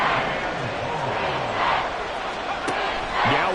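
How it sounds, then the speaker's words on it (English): A football stadium crowd at a Patriots–Dolphins game roars in a broad, sustained wash of noise, swelling in waves with scattered shouts rising above the din, loud throughout. "This crowd turning up the decibel level."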